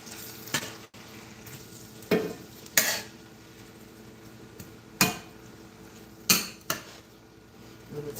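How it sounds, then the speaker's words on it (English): BBQ chicken wings being sautéed in a pan, close and quiet, with a soft background sizzle broken by several sharp utensil knocks and scrapes against the pan at irregular intervals. "right now I'm going to saute this"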